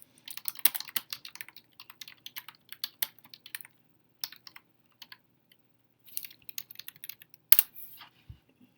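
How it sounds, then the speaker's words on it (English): Scattered clicks and clatters of a computer keyboard being handled and shifted, close and fairly quiet, with irregular bursts and pauses; no voices. "That's me moving my keyboard from my main computer."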